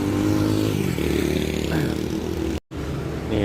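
An Ervin Transport Jetbus 2 Plus bus on the Wonosari–Yogyakarta route rumbles past at close range, its engine droning with a low tonal hum and a brief dropout near the end.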